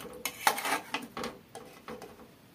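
Food is served onto a white plate, with a few bright clinks and scrapes of a utensil against the dish, close and fairly clear, then quieter handling sounds trailing off.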